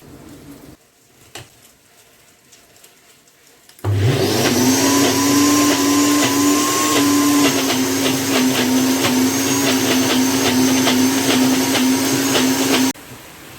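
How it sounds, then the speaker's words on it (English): A Ninja Foodi SS101 blender grinds peanut and almond butter on a second pass, its motor starting abruptly with a loud, steady high whine and churning that runs continuously for about nine seconds before cutting off. "I will be blending for a second time."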